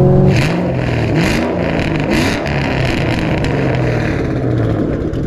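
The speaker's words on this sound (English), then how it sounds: "Man, this car is loud." A 2014 Shelby GT500 with 720 horsepower, an off-road H-pipe and a Corsa Extreme exhaust revs loudly and steadily, a continuous snarling drone with shifting pitch, close and alone.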